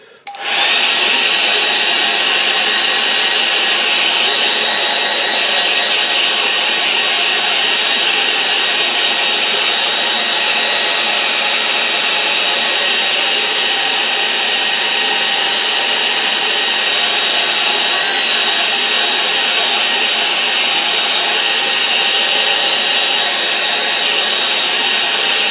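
A hair dryer blows over acrylic paint on watercolour paper, a loud, steady whirring roar that switches on and runs without pause, with no talking.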